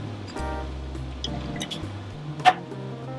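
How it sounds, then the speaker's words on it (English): Canned Rotel tomatoes poured into a smoked queso mixture, making a soft, wet glugging and slopping pour with a brief splat near the end, moderately quiet and close. "at this stage we'll pour in the Rotel"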